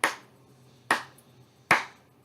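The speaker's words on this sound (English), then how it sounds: "so now I'm going to clap" Three sharp hand claps at a steady, even pulse, close and clear with short decays and no voices, given as a beat during a beginning oboe lesson.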